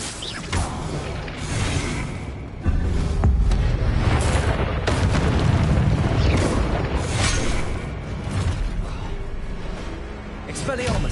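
Blasting spell explosions in Hogwarts Legacy, heavy booming blasts and crashing impacts repeating through a loud combat sequence, with a voice shouting spell names over the din.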